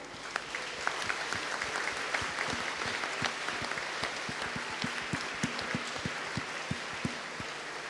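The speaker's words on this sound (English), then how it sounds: "Let us all acknowledge his generosity and humor and great style with a huge round of applause." Audience at a school leadership lecture applauding the cricketer after his talk, a sustained crowd clapping with distinct sharp claps standing out from the steady wash, moderately loud throughout.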